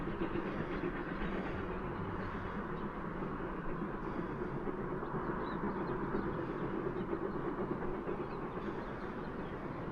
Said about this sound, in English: You can hear the train chugging along.